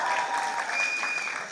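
An audience in a theatre applauds after a National School of Drama play, a dense, even burst of clapping that holds steady and fades slightly at the end.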